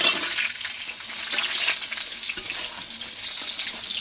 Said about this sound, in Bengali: তেলটা গরম হয়ে গেছে এবার আমি আলুগুলো দিয়ে